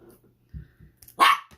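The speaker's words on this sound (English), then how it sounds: "I'm trying to play with my dog so he doesn't bark at y'all." A pet dog named Diesel lets out a few short low huffs and growls, then one sharp loud bark close by, the bark coming near the end.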